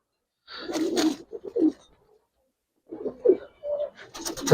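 China khaki female pigeons cooing close by in a loft, two clusters of soft throaty coos separated by a pause, with nothing else heard.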